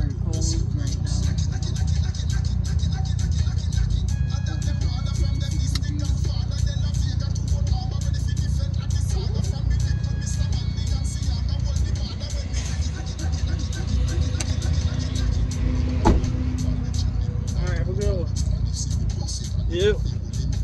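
A car drives along a road on a very cold day, its steady engine and tyre rumble continuing throughout at close range with voices talking over it.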